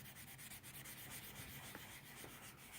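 Light hand rubbing over car paint to work off scratches and rust spots, a faint, close, continuous scratchy scrubbing in repeated short strokes, with no talking.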